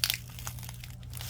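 Material being peeled off a plastic surface gives a brief, soft crinkling and crackling, with a slightly louder snap at the start.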